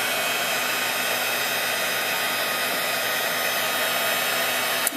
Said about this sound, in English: then we're going to heat emboss it